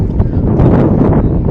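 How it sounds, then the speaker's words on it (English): Wind buffeting a microphone outdoors at a boys' high school soccer game, a loud, continuous low rumble with gusty swells and no clear pauses. "this is really windy"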